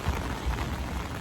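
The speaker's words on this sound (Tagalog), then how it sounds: "Lakas ng ulan." Heavy rain pouring steadily during a windy storm in Tokyo, a dense, close hiss of drops on surfaces with no voices.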